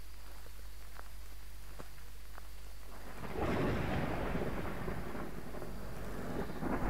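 Thunderstorm in the Phasmophobia ghost-hunting game: a quiet backdrop with faint patter, then a loud rolling thunder crash about halfway through that rumbles on with heavy rain to the end.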